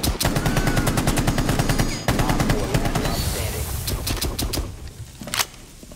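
Automatic gunfire in Rainbow Six Siege on the Castle map, loud, rapid bursts of rifle fire from close range with a brief pause midway, trailing off into scattered shots toward the end.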